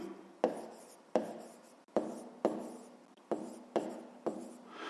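Pen writing by hand on paper during a Ukrainian fifth-grade maths exercise, quiet close strokes in a steady rhythm of about seven sharp scratchy bursts, each fading before the next, with no talk.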